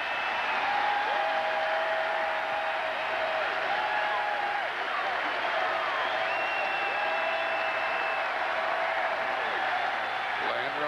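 Baseball crowd on its feet at a 1990 Padres versus Pirates game, a broad, steady wash of applause and cheering from a stadium, a constant roar kept under a commentator's talking.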